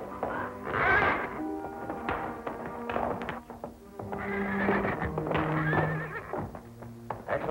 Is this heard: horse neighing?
yes